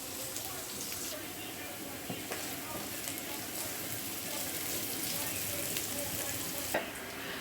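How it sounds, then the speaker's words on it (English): Onion lightly frying in oil in a pan for a shepherd's pie filling, a steady soft sizzle with occasional stirring scrapes, fairly quiet and continuous throughout. "Lightly fry that and then add that in with the mince"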